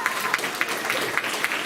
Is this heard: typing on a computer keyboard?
no